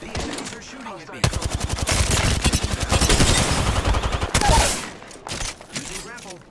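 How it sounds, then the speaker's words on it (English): Rapid automatic gunfire rattles in the video game Apex Legends, a dense burst lasting several seconds followed by scattered shots and game effects, with brief voice lines in between. "The enemies are shooting at me."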